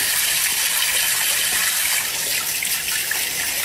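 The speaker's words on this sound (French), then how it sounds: "Et après, vous avez plus qu'à nettoyer votre éponge, regardez, avec du savon." A kitchen sponge rinsed with soap under hot running water, a loud, close, continuous gushing stream with slight squishing, steady throughout.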